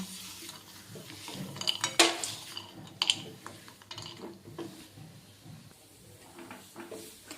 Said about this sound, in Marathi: आता आपण यामध्ये भाजून घेतलेले शेंगदाणे आहेत हे मिक्स करणार आहोत